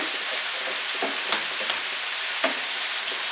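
Onions for a potato curry sizzle and fry in a pan, a steady close crackle of hissing fat broken by a few brief stirring clicks and pops, with no voices.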